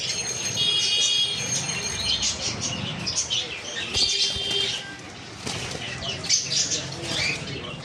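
Shrill, rapid chirps and squawks from two conure parrots, near and busy, with bursts of wing flapping and rustling in between.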